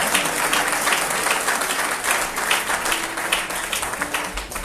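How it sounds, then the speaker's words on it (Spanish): A church congregation breaks into steady applause, many hands clapping together in a dense, continuous wash that lasts throughout at a moderate distance. "Ahí tenía que aplaudir, hermano, siempre aplaudo."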